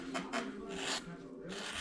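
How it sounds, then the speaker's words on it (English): A number 5 gouge carves wood on the head of a Civil War soldier figure, giving faint, close scraping strokes in about three short bursts. "Now I'm gonna take that same gouge right here, that number 5"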